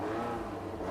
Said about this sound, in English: The BRZ, I reckon, has the best sounding GT3 engine of a real car.